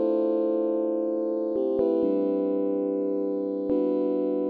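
Electronic synth chords move through a short progression voiced to share common tones, with sustained tones shifting smoothly at a few points and a steady, even level throughout.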